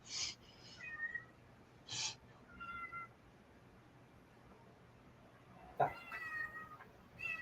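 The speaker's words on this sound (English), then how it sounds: "I named my kitten as Berry. It responds to it" A kitten meowing faintly several times, short high calls spaced out irregularly over a quiet background, with one sharper cry near the end.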